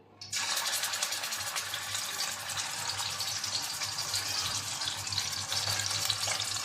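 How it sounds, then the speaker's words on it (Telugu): Chicken balls dropped into 100 ml of hot oil set off a sudden loud, crackling sizzle that stays dense and close throughout, with a low steady hum underneath. "ఇప్పుడు ఈ ఆయిల్లో ఇవి మొత్తం వేసుకుందాము."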